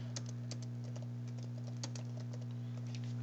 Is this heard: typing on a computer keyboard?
yes